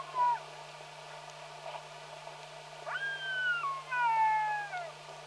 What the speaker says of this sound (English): is the cry of the jackal. That cry.